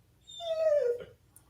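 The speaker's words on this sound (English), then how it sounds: "Sorry, my dog is whining." A pet dog whines once in a single drawn-out, falling whimper, close by and fairly quiet, with a faint low hum underneath and no talking.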